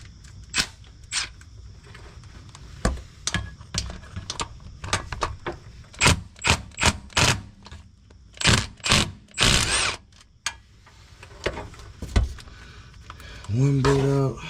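Bolts are removed from a truck transmission on a 1989 Box Chevy, with repeated short bursts of a power tool and metallic clanks spaced irregularly, close and fairly loud, plus a brief whirring sweep near the end.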